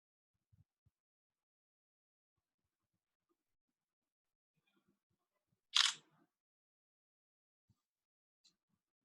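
Camera shutter clicks once for a selfie: a single crisp, fairly loud snap, then near silence with a few faint soft knocks around it.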